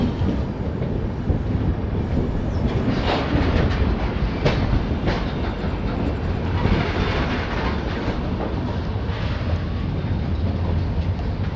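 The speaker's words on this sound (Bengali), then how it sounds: "আমরা সাহেবগঞ্জ স্টেশন ছেড়ে বেরিয়ে যাচ্ছি" An express train pulls out of Sahebganj station, heard from inside a coach: a loud, steady rumble with rhythmic wheel clatter and faint squeals running throughout.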